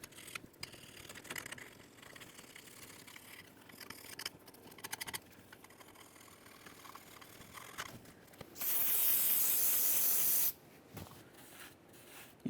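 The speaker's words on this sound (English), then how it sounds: "Use some parts cleaner." Parts cleaner sprays onto a Ford Ranger differential in one loud continuous hiss of about two seconds, set among quiet rubbing and scraping handling sounds.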